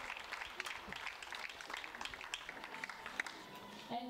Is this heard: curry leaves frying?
no